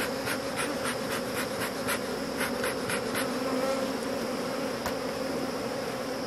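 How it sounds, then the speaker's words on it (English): Dense, steady buzzing of many honeybees crowded in and under a strong beehive, close and continuous throughout with no talk. "Ooh, a lot of bees underneath too."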